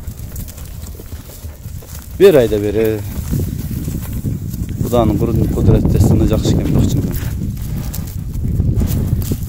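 Horse hooves clip-clop steadily at close range while people talk over them, with a gusty rush of wind in the background.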